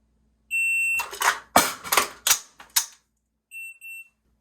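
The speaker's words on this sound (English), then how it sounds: "Now I'm gonna set this timer to 5 seconds now" An electronic shot timer gives a long steady beep during an AR-15 reload drill. A quick run of sharp, loud bursts follows, then two short beeps close together at the end.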